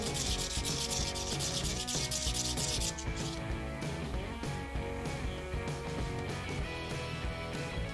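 A knife blade is rubbed flat in small circles, giving a steady, close scraping and rubbing rhythm that runs throughout, louder and hissier for the first few seconds and then softer.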